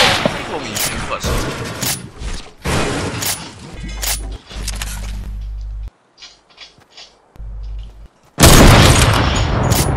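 Gunfire in the video game 1v1 playground, loud rapid shots and booming bursts in quick clusters, then a quieter pause, then another blast of shooting, with a voice talking in between.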